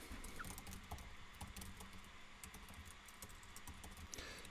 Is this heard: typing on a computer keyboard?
yes